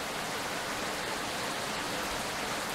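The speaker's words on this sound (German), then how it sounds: "Vor allem der Regen, der ist so unfassbar laut." Loud, unbroken rain from the video game Sally Face makes a dense, steady hiss that fills the whole stretch with no pauses or other sounds.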